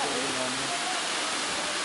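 Waterfall at Hanging Rock, a steady broadband rush of falling water close by, with faint voices of people talking over it.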